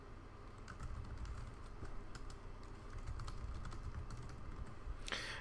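Soft, quick tapping of computer keyboard keys goes on steadily under a low room hum, with no voices.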